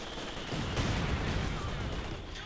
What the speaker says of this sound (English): Grenadiers moving about, and again trying to dodge all of the mortar fire.